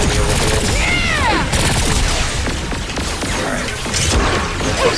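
Dense gunfire and explosive booms from the open-world shooter Agents of Mayhem keep up a loud, continuous barrage of crashes and mechanical clatter, with brief whistling sweeps mixed in.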